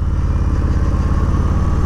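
A 2021 Harley-Davidson Low Rider S with its stock exhaust runs with a steady, fairly muted, low, pulsing engine rumble from close by, and no one talks over it.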